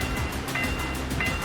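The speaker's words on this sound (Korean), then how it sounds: "기관사는 건널목 관리원의 수신호를 발견하고 곧바로 열차를 제동합니다" A passenger train braking as it nears a level crossing gives a steady heavy rumble with two short high squeals, continuous and close throughout the brief stretch.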